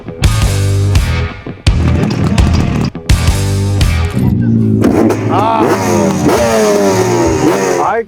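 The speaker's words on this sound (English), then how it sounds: "I got a applause for starting the bike now" A motorcycle, apparently a two-stroke, starts on a Chennai to Bengaluru road trip and revs hard in loud repeated bursts, its pitch climbing and falling close by, with a voice briefly audible.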